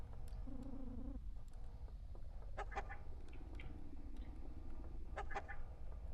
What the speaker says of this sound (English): Come on, chicken.